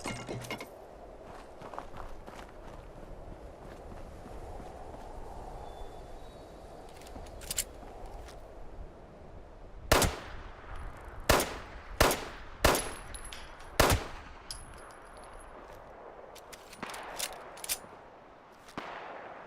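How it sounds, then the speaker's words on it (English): Gunfire in the video game Fallout 76: a burst of sharp, loud shots, several in quick succession and then more scattered ones, cutting through a low ambient background. "who's doing that gunfire?"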